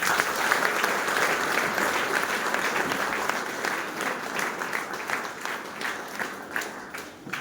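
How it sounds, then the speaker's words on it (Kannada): Loud applause fills a boot camp closing session, a dense wash of clapping from a large audience that swells and then gradually thins toward the end. "ಹುಡುಗದ ಜೋರಾದಂತ ಚಪ್ಪಾಳೆ"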